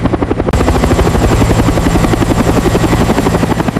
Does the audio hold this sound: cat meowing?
no